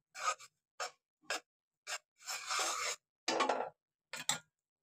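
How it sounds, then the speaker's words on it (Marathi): Fresh ginger rubbed over a grater, a small amount going into sweet Malvani khaja: about six short, dry rasping strokes in separate bursts with silent gaps, fairly close and moderately loud. "हे आलं त्याच्यावर किसायचं थोडंसं."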